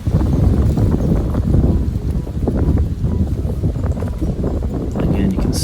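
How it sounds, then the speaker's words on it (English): Strong wind gusting across a hillside disc golf course, rough buffeting microphone rumble that runs throughout beneath a voice. "Again, you can see how much the wind is whipping here."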